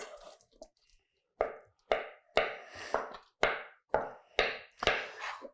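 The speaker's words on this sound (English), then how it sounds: "And then just do like 1/2 inch slices or so." A knife cuts seitan sausage into half-inch slices on a slight bias, giving about eight crisp, evenly spaced chops on a board, near and clear, with no talking.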